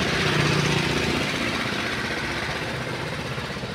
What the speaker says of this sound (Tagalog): may generator yung motor